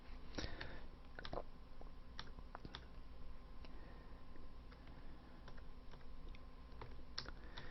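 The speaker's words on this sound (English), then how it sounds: "I get tired of typing." Someone types on a computer keyboard in a quiet room, with irregular soft clicks and taps spread through the whole stretch and occasional sharper key strikes, faint and close with no talking.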